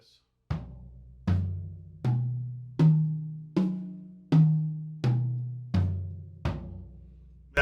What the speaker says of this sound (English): The big blue drums here are called the tom-toms.